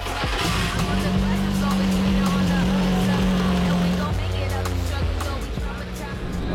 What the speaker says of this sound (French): j'essaye de tenir le ralenti un peu haut pour qu'on ait une bonne lubrification de tout le haut moteur